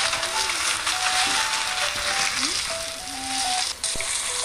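Onions fry in a pan for restaurant-style chilli chicken, giving a steady, loud sizzling hiss that runs throughout, with faint scraping and no voices.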